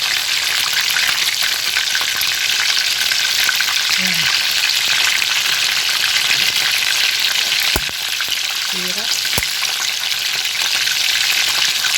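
Lumpiang shanghai spring rolls frying in hot oil over moderate heat: a loud, continuous crackling sizzle throughout, with a couple of brief clicks and a short spoken word.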